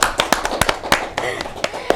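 Hands clap at a podcast recording, sharp spaced claps from a small audience alongside speech.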